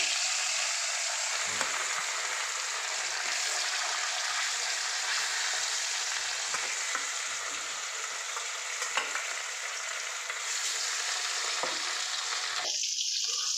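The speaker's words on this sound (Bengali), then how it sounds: "এবার আমি এই মাছগুলোকে ভেজে নেব।" Pieces of rohu fish frying in oil give a loud, even, close sizzle that holds steady, with faint stirring sounds and a shift in the sizzle near the end.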